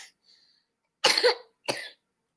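Two sharp, harsh coughs in quick succession, close and loud, with a faint throat sound before them.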